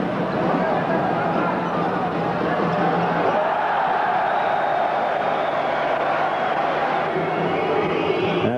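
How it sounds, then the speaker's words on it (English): Greek supporters cheering their team at a 1993 Eurobasket game against Italy, a steady dense crowd roar from a large arena, continuous and distant-sounding, with a commentator's voice over it. "a sizable Greek contingent cheering the boys on"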